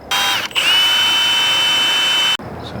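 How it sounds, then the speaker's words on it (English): A power drill runs steadily, drilling out two holes while moving a fitting across a 12-volt wiring and fuse setup. The motor whines loud and close for about two seconds with a brief dip near the start, then cuts off. "these 2 holes I'll have to drill out"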